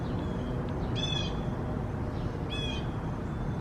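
Birds call around a backyard over a steady background hum, with two brief clear chirping bursts standing out and fainter calls scattered between them, moderately distant.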